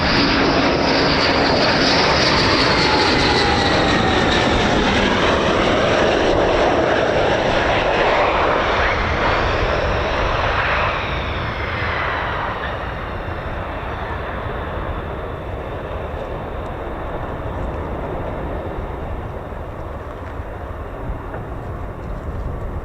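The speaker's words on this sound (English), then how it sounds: "Here comes our F-15, nice and quiet." A US Air Force F-15 fighter jet roars loudly overhead at RAF Lakenheath, its pitch sweeping downward as it passes, then fades into a steady distant rumble.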